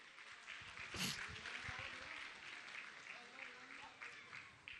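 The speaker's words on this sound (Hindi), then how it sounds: "आप जोरदार जोरदार तालियां तो बजाइए" A congregation at a Jain religious gathering led by a Digambar monk claps together in a fairly faint, continuous round of applause, with a voice briefly heard amid the clapping.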